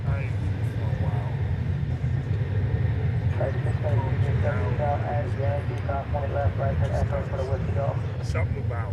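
An American Airlines jet departing DFW Airport bound for Belize City gives a steady, loud engine roar and rumble that runs throughout, while someone talks over it.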